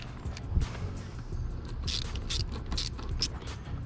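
A part on a 2020 Mustang GT is tightened back down by hand, heard as a quick run of close, quiet ratcheting clicks and mechanical creaks, with no talking.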